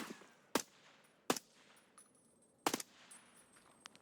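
Gunshots in Escape from Tarkov, three loud sharp cracks at uneven intervals with a softer pop or two afterward, each ringing out briefly against a quiet background.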